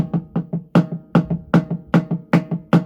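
An unpracticed drummer plays strokes in a repeating pattern with uneven loudness, the dominant hand landing hard and the other noticeably softer, played alone at a steady pace.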